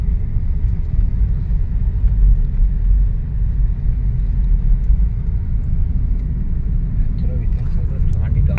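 Dense city road traffic in Bengaluru near Vidhana Soudha on Independence Day, a steady low rumble of engines and tyres that stays continuous and even throughout, fairly loud and close.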